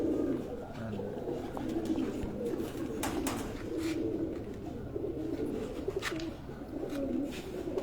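A breeder pigeon coos in soft, repeated rolling phrases, steady and fairly close, with faint background rustle and an occasional sharp tap.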